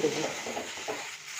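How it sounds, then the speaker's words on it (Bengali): Chili powder, turmeric and sugar being stirred into a mixture in a pan for a rice ball soup, with a soft sizzle and a few scraping strokes of a spoon, close and fairly quiet. "এগুলোকে একটু ভালো করে মিশিয়ে দেবো।"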